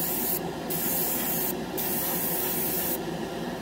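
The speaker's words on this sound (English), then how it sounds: "it's not really blowing through paint like my other one, my 5mm airbrush. So it lays down this primer really good." A GSI Creos Mr Hobby Procon Boy SQ single-action airbrush sprays primer in a steady, close, continuous hiss of air with no talk, its tone shifting slightly in a few short moments.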